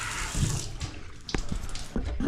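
Water runs and splashes at a newly installed bathroom sink drain that is leaking, an uneven close trickle with scattered drips and small knocks over a couple of seconds, no voices.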